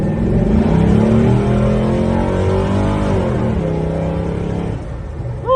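A 1967 Chevrolet Chevelle SS with an LS engine swap revs hard and accelerates from a stop, its deep V8 roar climbing in pitch and holding strong before easing off near the end, loud and close with no talking.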